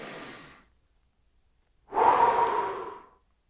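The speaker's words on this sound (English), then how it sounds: "we breathe in again." One long, deep inhale, loud and close and breathy, taken after a shorter breath and a brief silence as part of a power-breathing exercise.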